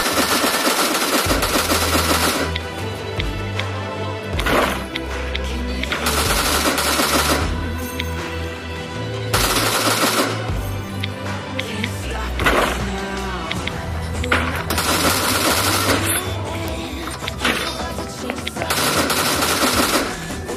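An auto cannon fires in the Last Island of Survival video game during a raid defence, giving long, dense bursts of rapid loud shots that pause briefly and then resume.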